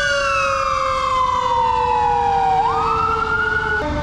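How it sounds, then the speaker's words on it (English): Emergency vehicle sirens wailing on a Compton, Los Angeles street, loud, steady falling and rising tones with overlapping sirens, close by. "there's so many sirens going on right now"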